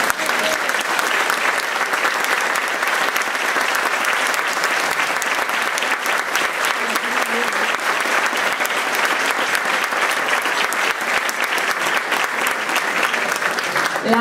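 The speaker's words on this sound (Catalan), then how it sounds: "Un aplaudiment, per favor." Long, steady applause from an audience at a provincial folk dance gathering, thick even clapping that holds at full strength for the whole stretch without any speech.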